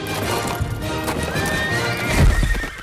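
A horse whinnies with a rising call, then hooves clip-clop loudly and close near the end, over a busy background of other sound.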